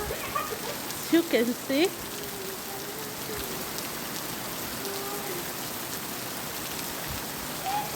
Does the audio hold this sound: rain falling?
yes